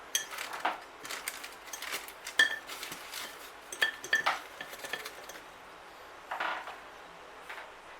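A small metal strainer is tapped over a lemon and blueberry pudding to dust it with icing sugar, giving faint, scattered light clinks and taps in a quiet room with no talking.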